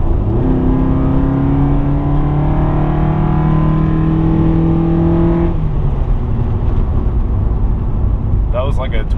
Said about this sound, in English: you can really hear the engine want to get up and go